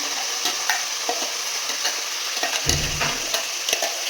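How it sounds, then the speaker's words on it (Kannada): Ground masala frying with partly cooked vegetables for green pulao, a constant near sizzle broken by repeated spoon scrapes and stirring knocks, with a brief low thud midway. "ರುಬ್ಕೊಂಡಿರೋಂಥ ಮಸಾಲೆ ಹಾಕಿದ್ದೇನೆ."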